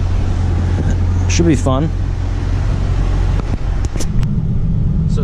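A Dodge Challenger R/T 392, a heavy coupe near 4,300 pounds, cruising on a test drive, with a steady low engine and road rumble heard from inside the cabin, while a person speaks briefly over it.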